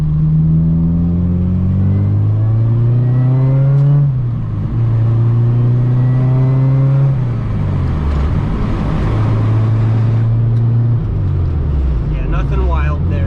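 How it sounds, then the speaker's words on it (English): Supercharged Honda RSX engine revving in repeated rising pulls, with a loud, close engine note climbing and dropping several times, then settling and briefly rising again near the end. "I'm gonna let you guys hear the supercharger just a little bit"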